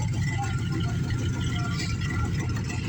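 A worn-out LS engine in a pickup truck idles with a steady low rumble through 3-inch exhaust and see-through mufflers, a constant droning note close by.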